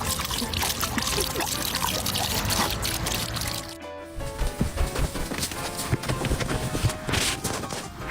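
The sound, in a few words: water pouring from a drinking fountain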